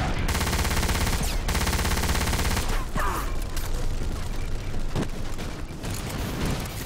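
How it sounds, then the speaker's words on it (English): A gunship firing at a tank on the Sidi Power Plant map of Battlefield 2142: dense, continuous heavy gunfire fills the scene loudly, with sharp impacts and booms breaking through the barrage. "Our gunship shooting at our tank."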